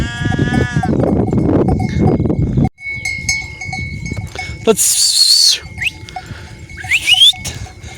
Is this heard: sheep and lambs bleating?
yes